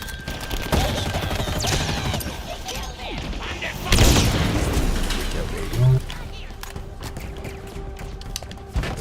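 Sniper rifle fire in the Halo Infinite campaign on Xbox Series X, with a loud crack near the middle and scattered gunfire and mechanical clatter around it, under a game soundtrack.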